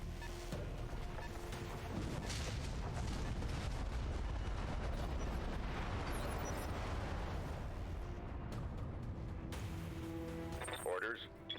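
Mech weapons firing in BattleTech, a steady loud barrage of booming cannon and gunfire rumble that runs for several seconds before cutting off abruptly, with speech mixed in.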